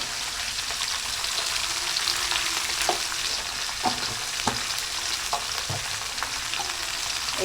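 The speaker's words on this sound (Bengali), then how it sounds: "এবার নাড়িয়ে চাড়িয়ে একটু কষা করে নিই, ভাজা ভাজা করে নিই" Mixed vegetables with potatoes being stir-fried in a pan with salt and turmeric, a continuous close sizzle broken by periodic scrapes and knocks of a spatula stirring.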